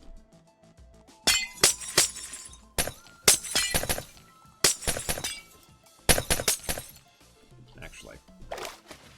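Sharp bursts of breaking glass shatter in several separate clusters, each crash trailing into tinkling shards, with quieter gaps between the impacts.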